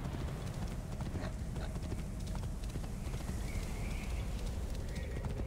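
Horse hooves clip-clop in a steady, quick rhythm against a dense background hiss, with no voices present, in the video game Assassin's Creed Origins.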